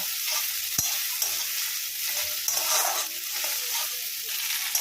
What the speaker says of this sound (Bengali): আলুটা দিয়ে দিয়েছি এখানে, নামানোর মতো হলুদ দিয়ে দিয়েছি, কষিয়ে নেব।